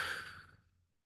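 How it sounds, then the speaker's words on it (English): A single soft exhale, a slow breath let out near the microphone that fades to silence within a second. "Just take a deep breath with me."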